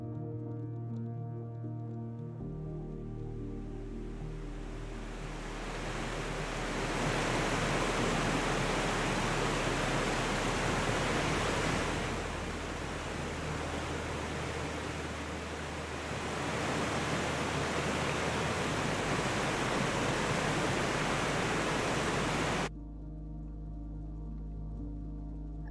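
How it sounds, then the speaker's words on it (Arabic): A river water sound effect in Unreal Engine plays as a loud, dense, continuous rushing wash for about twenty seconds, swelling slightly in places before cutting off abruptly, with no voices. "اجيب صوت النهر"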